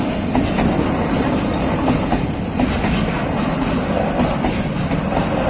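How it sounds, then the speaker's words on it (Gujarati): Railway carriages roll past close by, a loud steady rumble with rhythmic clickety-clack of wheels over rail joints as the last cars of the train go by, with no voices. "તો રેલગાડી વી છે."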